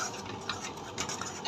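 Green molokhia being stirred in a pot, a soft, steady scraping and rubbing of a spoon through the thick leaves with faint clinks against the metal, close and quiet, no talk.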